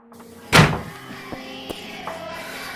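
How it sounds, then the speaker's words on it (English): A door slams shut as an audio drama sound effect: one loud, sharp thud near the start, followed by a few faint knocks and small thumps as the room settles. "The door slammed behind me."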